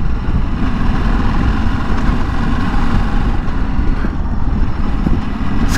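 A 2023 Ducati Desert X motorcycle rides on a road, a loud, steady engine rumble mixed with heavy wind noise throughout, with no talking.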